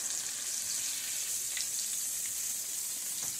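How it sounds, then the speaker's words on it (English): Pollock sizzling in brown butter with garlic as it is stirred, a steady close crackling fry with a few soft scraping touches. "we're going to give this a little stir. We're going to mix that around with our brown butter."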